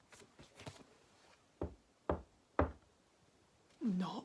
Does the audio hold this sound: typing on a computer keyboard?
no